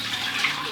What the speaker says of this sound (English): Let's add the water.